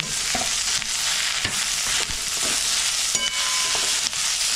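Cashews, ginger, green chilli and tomato fry in a pan under a continuous loud sizzle, with several scraping stirs of a spoon and a brief metallic clink near the end, no talking.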